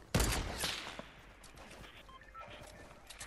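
Gunfire in the video game Fortnite: a sharp loud shot at the start, then a few fainter scattered reports and low rumbling echoes over a quiet background.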